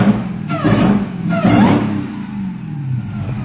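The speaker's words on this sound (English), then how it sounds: "Definitely got a whine." A 2016 Dodge Charger engine revs twice in quick succession, a rising whine riding over the mid-range engine note before it settles back to a steady idle, close and fairly loud, with no talking.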